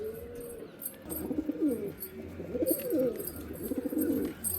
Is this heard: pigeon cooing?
yes